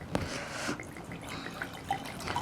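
Cognac is poured into a glass, giving a steady liquid trickle with faint drips and clinks. The pour sounds close and soft, and there is no talking.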